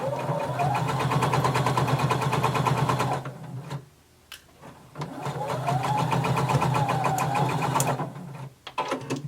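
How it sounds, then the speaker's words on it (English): A sewing machine sews a quarter-inch seam across the bottom of a garment in two sustained bursts split by a short pause, close and loud, ending in brief stops and clicks. "you're going to sew 1/4 inch across the bottom, and then we're going to go up the front"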